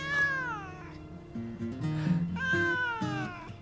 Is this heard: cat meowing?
yes